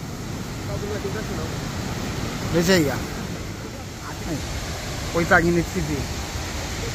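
The Cachoeira do Urubu waterfall in Primavera, Pernambuco, runs with a large volume of water after heavy rain. It makes a steady, full roar, and someone speaks briefly over it.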